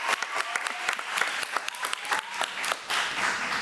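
An audience at a committee meeting claps steadily for a few seconds, a dense patter of many hands at moderate loudness.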